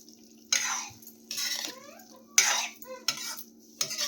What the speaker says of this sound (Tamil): இப்போ இது எல்லாத்தையும் நல்லா மிக்ஸ் பண்ணிடலாம்